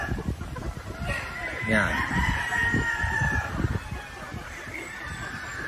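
On a poultry farm, a rooster gives a strained crow over steady clucking and background hens, while someone speaks briefly nearby.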